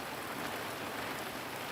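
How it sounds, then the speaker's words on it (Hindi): Heavy rain pours steadily in Laksar, Uttarakhand, a close, uniform broadband hiss of falling water with no talking over it. "सुबह से लगातार झमाझम बारिश हो रही है।"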